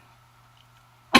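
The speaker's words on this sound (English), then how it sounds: "If I can quit coughing" A single sharp cough bursts out near the end, loud and close, after a second of near silence with a faint low hum.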